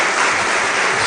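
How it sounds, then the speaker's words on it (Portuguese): A church congregation breaks into loud, dense clapping in praise during a worship service, a brief wash of applause with no voices standing out. "Dê uma salva de palmas a Jesus."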